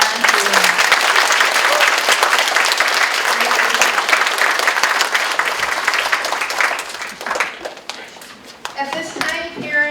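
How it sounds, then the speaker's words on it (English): A school auditorium crowd at a DARE graduation gives a round of applause, dense clapping that thins out after several seconds as scattered claps fade and voices, including children's, start to murmur. "one last round of applause for our entry"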